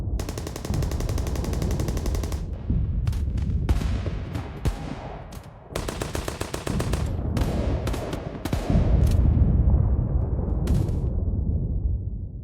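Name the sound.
gunfire and artillery fire in a battle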